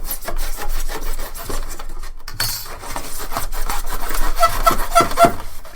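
Polystyrene pieces being hacked apart with a blade, a harsh continuous rasping and sawing scrape with squeaky rubbing, close and loud, uneven strokes with a brief pause midway.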